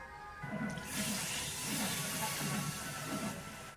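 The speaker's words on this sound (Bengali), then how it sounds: "জিরা কষানো হয়ে গেছে আমি জল দিয়ে দেবো" Water poured into a hot pan of fried cumin for a vegetarian kohlrabi curry. It sets off a loud, steady sizzling hiss with bubbling that lasts about three seconds and then eases slightly.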